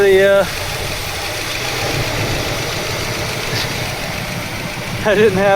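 A 1978 Continental Mark V engine idles roughly with a steady, loud mechanical drone and vibration. Someone speaks briefly at the start and again at the end.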